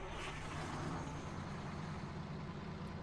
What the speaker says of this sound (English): I'm gonna hop out so I can hear this truck fire up